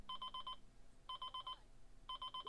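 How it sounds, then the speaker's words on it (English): An alarm clock beeps in three bursts of rapid, evenly spaced electronic pips about a second apart. It sounds faint and somewhat distant over low room noise. "Can you hear that? Because I can. Hang on a second. Alarm clock."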